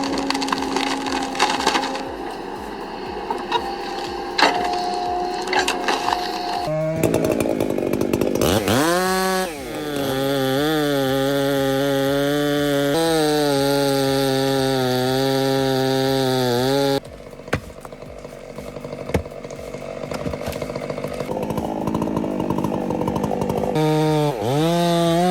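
A chainsaw cuts into a large, hollow-centred tree stump during heavy stump removal, loud and close, its engine snarling in long bursts with rising and falling revs, a few idle pauses and sharp pitch shifts as it bites into the wood.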